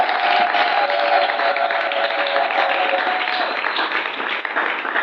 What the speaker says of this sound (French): Acclamons Dieu plus fort.